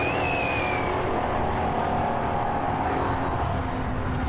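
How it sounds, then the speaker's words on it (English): GT cars, including a Lamborghini, roar past during a three-hour endurance race at Slovakia Ring, a loud continuous engine howl that stays strong throughout. "now we see all cars getting ready to cross the start-finish line for what is probably the third to last time, as Konopka Jr. now racing on in the Lamborg"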